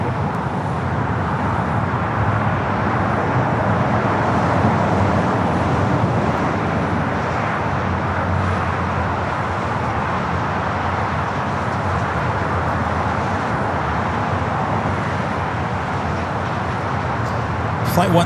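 A heavy airliner arriving at LAX rumbles in a continuous, loud broadband roar that holds steady throughout, blending with distant airport traffic noise while radio voices talk faintly underneath.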